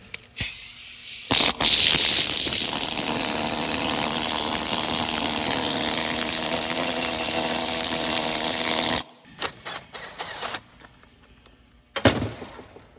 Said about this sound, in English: needle scaler. I call it the descaler because it descales the rust